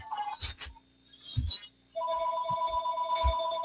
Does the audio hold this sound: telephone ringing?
yes